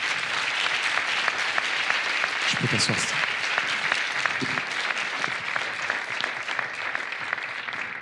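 A steady burst of audience applause at a public speaking conference, dense and sustained, with a voice speaking briefly over the clapping.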